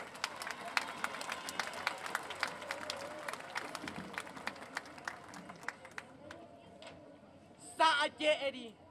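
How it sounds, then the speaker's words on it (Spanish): Steady applause from a crowd, many hands clapping for several seconds before fading, followed by a few brief voices. "¡Venga ese fuerte y caluroso aplauso!"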